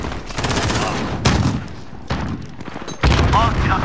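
Shotguns go off in an online shooter game, a rapid volley of heavy overlapping blasts in quick bursts under excited talking.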